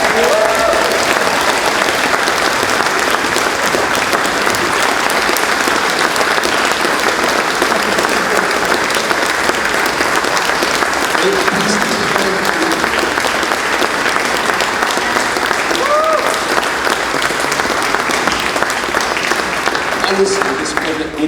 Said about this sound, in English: So come on up here, let's give you the clap.